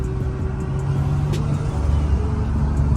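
A turbocharged Infiniti G37 drives along with a steady low engine drone and faint airy turbo flutter bursts above it, continuous and fairly close, with no one speaking.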